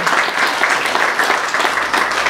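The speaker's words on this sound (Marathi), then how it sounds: "तर एकदा जोरदार टाळ्या झाल्या पाहिजे या बालगोपाळांसाठी" Enthusiastic applause from an audience for children's drama performers, a dense, steady clapping that stays loud and even throughout.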